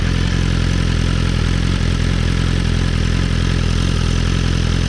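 A motorcycle fitted with a full Jeskap exhaust idles up close, a loud, steady low-pitched throb with an even pulsing beat and no change in revs.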